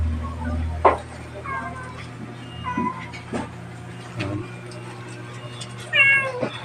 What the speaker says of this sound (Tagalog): Ang pusa ko.